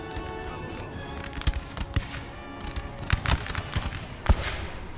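Musket volleys crackle in the PC strategy game Napoleon: Total War during a 2v2 online battle, as Prussian Landwehr infantry take fire over a hill, with scattered sharp reports and a few louder bursts over a busy battle din.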